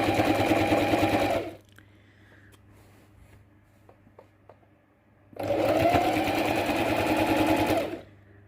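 A sewing machine stitches a patchwork quilt slowly across overlapping seams, running in two loud, steady bursts of a second or more with a quiet pause between them.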